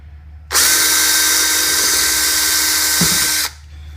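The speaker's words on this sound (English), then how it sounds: "I got one more hole drill here for the threads" A loud electric drill runs steadily for about three seconds, drilling a hole in a Hoover SteamVac under repair, bites briefly near the end, then stops.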